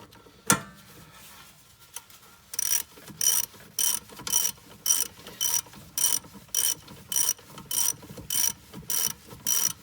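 A ratchet wrench tightening the rear brake bolts on a 2012 Nissan Altima coupe, a single sharp knock followed by a steady series of close, rhythmic clicking ratchet strokes, about two per second, with no talking.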